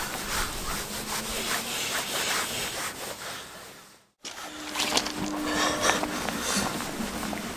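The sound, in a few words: rubbing toothpaste onto Toyota Alphard headlight lens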